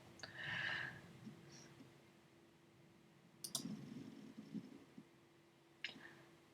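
Computer mouse clicks while browsing for an image file: a faint click near the start, then a few crisp, close, quiet clicks spread across a mostly silent stretch, with no talking.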